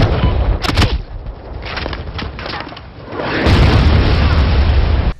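A rocket explodes in Medal of Honor gameplay: a loud booming blast with crackling debris, then a sustained heavy rumble of fire and wreckage that rolls on until it cuts off abruptly.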